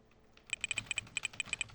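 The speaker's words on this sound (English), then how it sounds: "my keyboard is completely locked, and there's a beeping sound for every key press I make" Computer keyboard keys pressed in Notepad on a Windows PC with Filter Keys locking the keyboard, each press giving a short high beep; about a dozen quick, evenly spaced press-and-beep pairs, close and clear.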